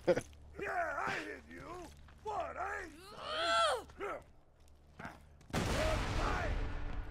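A rocket launcher fires in Borderlands 2, a sudden loud roaring blast near the end that follows stretches of groaning, drawn-out voices.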